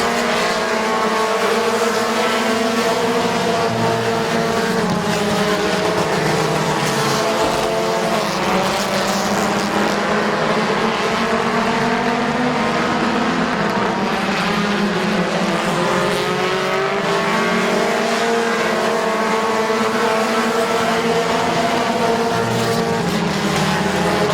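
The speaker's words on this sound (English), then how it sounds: "here comes the 78 of Peebles, maybe with a flat or something not loose on that 78 machine" Race cars at Midvale Speedway make a loud, unbroken engine roar throughout. Several engines overlap, and their pitch rises and falls as the cars circle the track.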